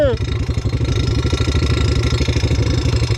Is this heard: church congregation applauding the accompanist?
no